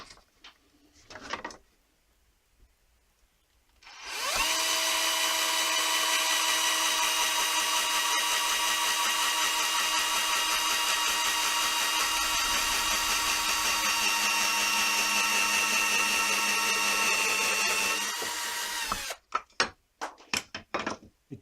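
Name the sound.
power drill boring pilot holes in pallet wood baseboards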